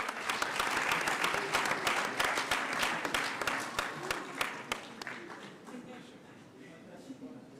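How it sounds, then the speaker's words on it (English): Applause from an audience at a South Africa–EU bilateral event, honouring IDC, DBSA and German development partners: dense clapping with sharp individual claps standing out, fading gradually toward the end. "Let's give them a round of applause."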